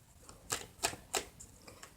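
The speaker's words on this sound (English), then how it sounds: "I'm actually shuffling on camera instead of already having everything prepared." Tarot cards being shuffled by hand, heard as three crisp, papery riffling bursts at a steady pace, close and fairly quiet, with no talking.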